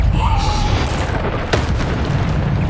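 Bombarda spell blasts in Hogwarts Legacy, a booming explosion with a sharp burst and rumbling tail, followed by another pop, set against continuous game ambience.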